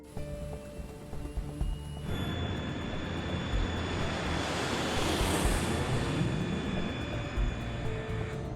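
A Brazilian-made Embraer E190 twin-engine narrow-body jet swells from a low cabin hum into a loud, broad engine roar that builds and holds steadily for several seconds, with no voices.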